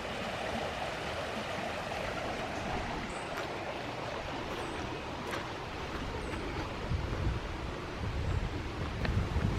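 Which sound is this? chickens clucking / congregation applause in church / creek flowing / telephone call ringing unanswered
creek flowing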